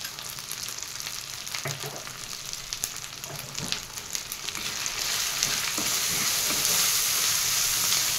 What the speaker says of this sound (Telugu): వేసి బాగా కలుపుకోవాలండి